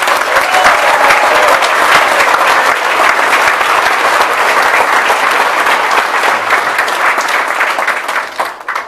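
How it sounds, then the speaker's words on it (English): A large audience at a military retirement party breaks into loud, sustained applause for the California National Guard, dense steady clapping that fills the room before tapering off at the end. "I want to hear a round of applause for the California National Guard"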